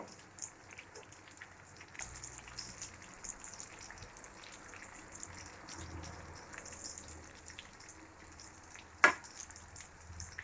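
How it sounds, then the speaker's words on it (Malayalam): Fish pieces fry in hot oil for a Kerala-style fish pickle, giving a continuous faint crackling sizzle like light rain. A few soft clinks occur, and one sharp utensil knock is heard near the end. "നമ്മുടെ മീൻ ഒരു 1/4 ഭാഗത്തോളം ഫ്രൈ ആയിട്ടുണ്ട്"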